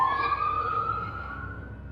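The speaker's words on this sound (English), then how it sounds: "Oh, fire truck." A fire truck siren wails in a long, gradually falling tone, moderately distant, with no talking.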